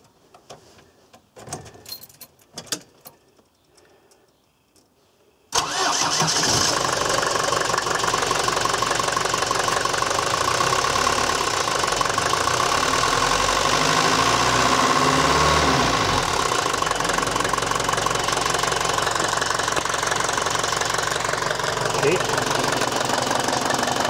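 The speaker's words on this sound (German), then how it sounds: "Dazu den Motor einfach mal laufen lassen." A Mercedes MB100 van's engine starts after a few seconds of quiet handling noises, then settles into a steady, loud idle with a knocking diesel-like clatter that runs continuously to the end.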